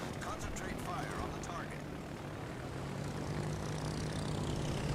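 Torpedo bomber squadron engines in World of Warships Legends, a steady propeller drone of carrier aircraft droning on throughout, with talk over it.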